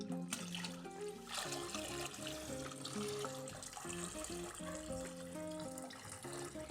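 Tap water runs steadily into a bucket during an aquarium water change, a faint, continuous splashing pour lasting several seconds with no talking.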